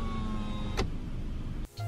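The power window of a Mitsubishi Xpander Ultimate moves, giving a brief rising whir inside the car that ends in a soft thump as the glass stops, heard close and on its own.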